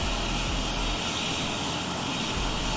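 Fokker 28 jet engines spooling up for start in a flight simulator game, a steady broadband whine and roar with a constant high tone, heard from outside the aircraft with no talk.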